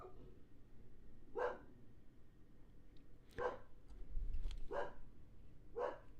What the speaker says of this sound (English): Why is the dog barking?